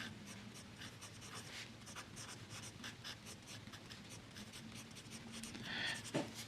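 A fountain pen with a double broad nib scratches block capital letters onto a Rhodia pad in short, rhythmic strokes, close and quiet, with no talking.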